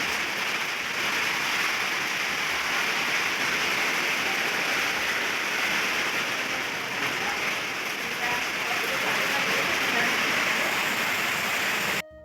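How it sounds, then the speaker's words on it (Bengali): Heavy rain pours steadily in a dense, loud hiss that holds without pause until it cuts off at the end. "আর কতটা জোরে বৃষ্টি হচ্ছে মানে তোমরা বুঝতে পারলে তোমাদের একটু শোনালাম"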